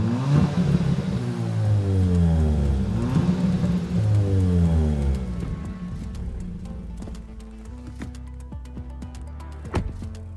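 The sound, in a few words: Kia Ceed GT 1.6 turbocharged gasoline engine driving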